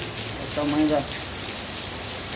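Heavy rain during the rainy season, with water rushing as a torrent down an asphalt street in front of a house, a steady hiss throughout while someone speaks briefly over it.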